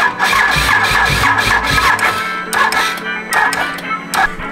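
Can-Am Renegade ATV engine with a worn, toasted motor idling up close, a loud, uneven throb with rough pulses and some sputtering bursts over a steady mechanical drone.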